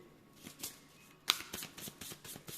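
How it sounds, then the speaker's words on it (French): Tarot cards shuffled and drawn by hand, a run of soft papery slaps and riffles with one sharper snap partway through, close and fairly quiet, with no voice. "on va prendre, alors, avec une carte, là, s'il vous plaît"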